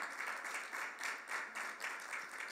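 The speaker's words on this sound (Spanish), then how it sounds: "Démosle un aplauso al Señor" A church congregation claps together in a steady rhythmic beat, with pulses roughly three to four times per second, faint and distant throughout the short stretch.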